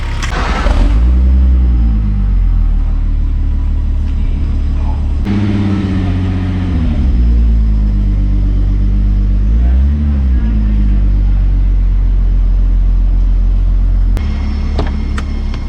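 A tuned VR6 turbo wagon engine runs loud and close, rising and falling through several revs over a deep, rumbling idle.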